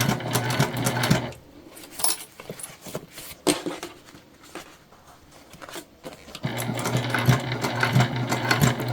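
A sewing machine top stitching a satin-lined east-west style wristlet with a Microtex 90/14 needle, running in steady close bursts, easing off into a quieter pause with light handling clicks before the whirring stitching resumes.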